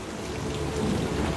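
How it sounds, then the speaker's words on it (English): A heavy rain downpour roars as dense, continuous broadband hiss, loud and unbroken, with no voices. "Their flimsy rain gear is no match for the deluge"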